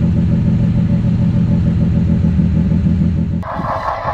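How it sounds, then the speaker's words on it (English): A Mazda 13B rotary engine idles steadily with a throbbing, low, choppy rumble, close and loud, shifting in tone near the end. "It's supposed to be a 13B idling."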